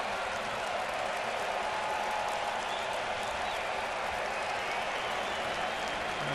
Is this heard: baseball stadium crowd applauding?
yes